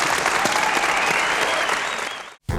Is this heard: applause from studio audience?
yes